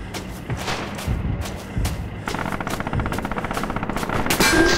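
Red Orchestra 2 combat sounds with sustained machine-gun fire and scattered gunshots, a fast rhythmic rattle that grows louder and more continuous toward the end.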